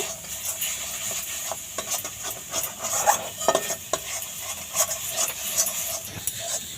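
Grated coconut mixture is stirred in a pan on a low flame, with continuous soft scraping and light clinks of a utensil over a faint sizzle.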